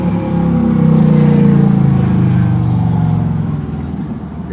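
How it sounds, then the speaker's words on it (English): A loud car running open headers with no mufflers rumbles past up close, a steady deep throaty roar swelling and then fading slightly over a few seconds. "you can run open headers here in this part of town. You don't have to have mufflers."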